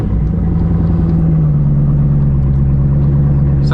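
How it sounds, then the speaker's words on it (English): A Chevrolet C6 Corvette Z06 with a high-compression V8 idles after a cold start, a loud steady low rumble with a firm pulsing hum that holds even throughout, recorded from close by. "Sounds phenomenal. High compression V8, sounds great."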